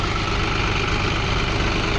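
A John Deere 5310 tractor with a loader idles with a steady, low rumbling drone, loud and close, unchanging throughout with no voices.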